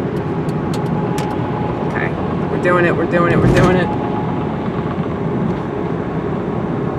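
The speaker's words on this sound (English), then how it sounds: "Let's wait here for these semi trucks to pass." Semi trucks pass on an interstate, a steady loud rumble of heavy traffic and road noise under brief talk in a car.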